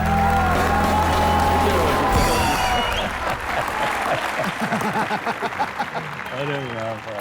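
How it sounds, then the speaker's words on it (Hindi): Studio audience applause on a comedy TV show, a loud burst of clapping and cheering over music that swells then breaks into a scattered, fluttering patter, with a voice speaking over it. "जोरदार तालियां एक बार।"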